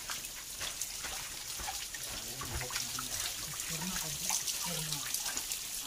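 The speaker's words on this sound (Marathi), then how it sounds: "पाण्याचे झरे पण बघू शकता कसे वाहत आहेत ते" Spring water trickles and flows steadily at a Pandava-era water source on Salva hill, a continuous close wash of splashing with faint voices of people in the background.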